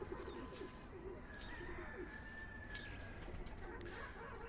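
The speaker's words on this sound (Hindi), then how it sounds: "मैंने कुछ कबूतर अपने ब्रीडिंग लॉफ्ट से लाया है।" Pigeons from a breeding loft coo softly and repeatedly at close range, low throaty calls rising and falling over a quiet background of rustling and faint clucking.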